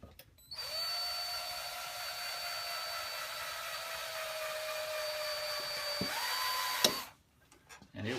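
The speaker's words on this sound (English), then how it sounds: "I'm gonna get the drill and chuck that in there." A power drill whines steadily for several seconds while spinning wire to form bottle brush trees, its pitch dipping slightly before it cuts off.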